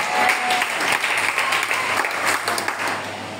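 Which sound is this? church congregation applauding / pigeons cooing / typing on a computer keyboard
church congregation applauding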